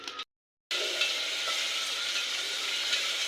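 Onions and green chillies frying in hot oil for a beans curry give a steady, close sizzle that runs almost without a break, after a brief silent gap near the start.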